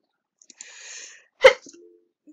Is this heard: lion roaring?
no